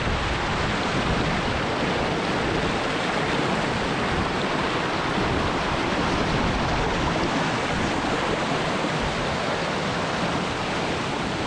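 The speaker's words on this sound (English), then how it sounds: "It's insane how much the river drops at this waterfall." A river drops over a waterfall, giving a steady, loud, broadband roar of rushing water with no breaks.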